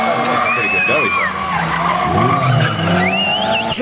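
A purpose-built track car with no airbags spins a doughnut, tires skidding and squealing in wavering high whines over a steady engine roar, loud and close, with voices talking over it.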